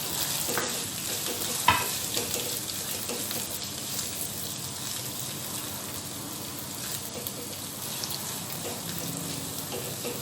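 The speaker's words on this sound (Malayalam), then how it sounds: "ക്യാരറ്റ്, വേപ്പില, ഇഞ്ചി, നമ്മൾ പച്ചമുളക് ഇതെല്ലാം ഒന്ന് ഇട്ടിട്ട് ഇതൊന്ന് വാടി വരട്ടാം." Carrot, curry leaves, ginger and green chili sauté in a pan for idli upma, giving a steady close sizzle with a brief utensil clack partway through; no one speaks.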